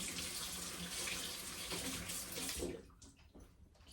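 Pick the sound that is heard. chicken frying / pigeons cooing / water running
water running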